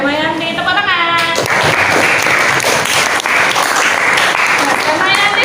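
A class applauds a student's good answer. A voice speaks briefly, then dense clapping from many hands swells and holds loud and steady to the end.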